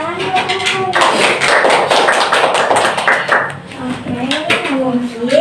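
A small group at a counselling session claps together, a burst of close, loud hand claps lasting a few seconds, with voices speaking before and after it.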